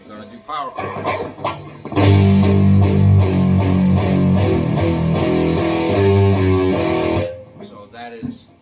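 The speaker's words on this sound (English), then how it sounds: "This is where the distortion comes in, okay? You're going to do power chords." Distorted electric guitar strums sustained power chords in a steady rhythm, loud and full, moving between a few chord shapes with brief speech-like sounds before and after.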